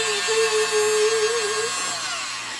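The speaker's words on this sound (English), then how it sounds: "test out a gadget I recently got this week. And it's my mini leaf blower." A mini leaf blower's small motor whirring at a high, steady pitch, close and continuous, then winding down slightly near the end.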